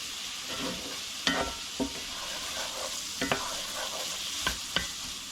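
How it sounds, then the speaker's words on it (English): Onions sautéing in butter for Swedish meatballs, a steady close sizzle punctuated by several sharp spoon scrapes and knocks against the pan at irregular intervals, no voices. "Butter and onions here. Cook this down, let them saute a bit."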